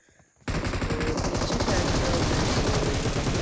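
After a brief quiet moment, rapid continuous automatic gunfire bursts out in an online shooter game match and keeps going, loud and dense.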